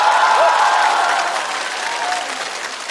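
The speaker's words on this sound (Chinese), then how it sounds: "掌声再次给周老板" A stand-up comedy roast audience applauds a comedian with loud, dense clapping and some cheering. It stays steady, then slowly thins out over a few seconds.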